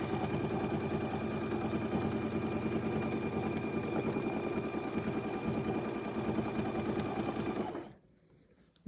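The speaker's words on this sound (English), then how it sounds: "I'm lining up my template so it's on the line, and I'm stitching." Sewing machine stitching steadily along a quilting template, a loud continuous rapid mechanical chatter that runs unbroken for several seconds before stopping abruptly.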